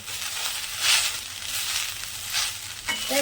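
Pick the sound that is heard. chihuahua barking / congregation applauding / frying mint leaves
frying mint leaves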